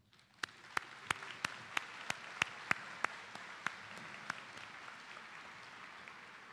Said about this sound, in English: Please join me in extending a round of applause and a moment to recognize and express our gratitude to these leaders for their presence and support of our students.